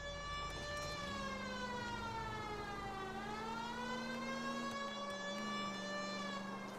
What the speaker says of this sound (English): Let's turn the sirens off, because that's doing my nut in.